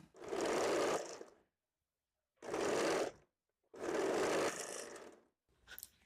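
A sewing machine stitches the side seams of a 32-size high-neck blouse in three loud, steady bursts with short silent pauses between them, nearby and alone.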